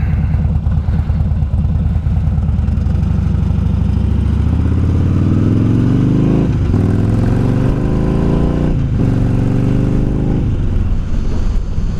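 A Harley-Davidson Dyna Street Bob with forward controls riding up the street, a loud, close, lumpy V-twin idle that swells into a revving pull with a few shifts.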